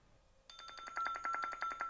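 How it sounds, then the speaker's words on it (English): Cardo Freecom 4 motorcycle intercom plays its incoming-call ringtone: a quiet lead-in, then a clear electronic chiming pattern of rapid repeated tones that continues steadily and close up. "There's a call coming."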